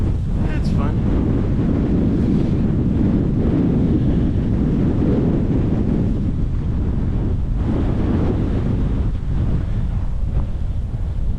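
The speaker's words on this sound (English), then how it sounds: "Now we got winds steady at 20 miles an hour." Strong wind steady at around 20 mph and gusting over 35 by the banks of the Missouri River, roaring continuously across the microphone as loud, dense buffeting that stays nearly constant throughout.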